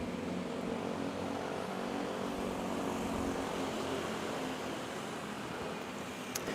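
Cebu Pacific airliner rolling down the runway at Manila's NAIA airport, a steady broadband jet roar heard from a distance that holds at an even level throughout.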